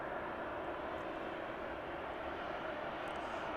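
A passenger aircraft at East Midlands Airport on the runway during the evening, heard as a steady, broadband jet engine roar that holds constant throughout at moderate distance.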